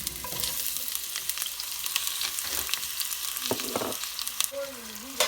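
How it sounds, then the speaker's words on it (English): Chopped onion frying in hot oil for a chicken and poblano dish, giving a steady, close crackling sizzle with occasional stirring clinks and scrapes throughout. "now that the oil is hot, I'm going to go ahead and put in the onion"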